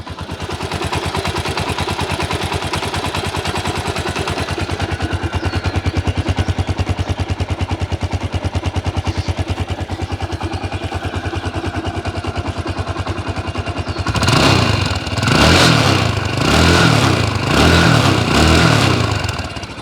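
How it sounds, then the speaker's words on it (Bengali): A TVS Stryker 125cc motorcycle idles with a steady, rapid engine putter, close and loud, then revs up several times in a row near the end. "গাড়ির ইঞ্জিনের সাউন্ড যদি একটু শোনানোর চেষ্টা করি"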